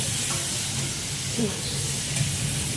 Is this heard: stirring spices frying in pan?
yes